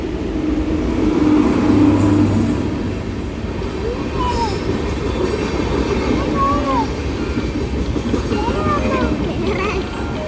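A train rumbles steadily past at close range, its wheels squealing faintly along the rails with a continuous loud roar, while voices talk in the background.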